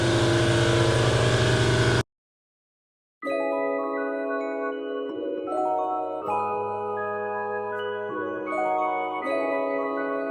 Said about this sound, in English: 2 days later, getting the exhaust done.